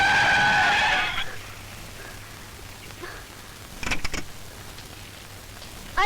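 A car's tires screech loudly in a harsh skid to a stop over the first second, then cut off into a quiet stretch broken by a few brief clicks and knocks.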